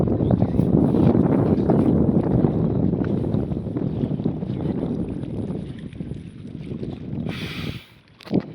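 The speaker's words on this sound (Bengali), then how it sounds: "ওইদিকে মনে হয় ট্রলার নিয়ে পিকনিক করতে আসছে।" A trawler boat's engine chugs over open water, a continuous low rumbling drone mixed with heavy wind buffeting on the microphone, steady for most of the stretch before dropping away near the end.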